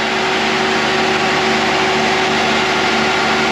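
A gas-fuelled Deutz engine generator set runs steadily nearby, giving a loud, continuous drone with a constant hum and no pauses, and no one speaks.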